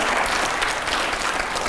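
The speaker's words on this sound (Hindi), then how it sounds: "जोरदार तालियां हो" A studio audience on a televised debate show gives loud, dense applause that carries on steadily through the short stretch, with no talking over it.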